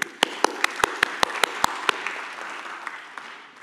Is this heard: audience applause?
yes